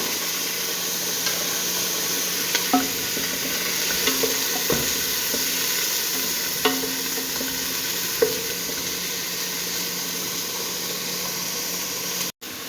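Tomatoes sautéing in a pan, a steady frying hiss with scattered scraping stir strokes throughout, ending in a sudden clatter, no speech.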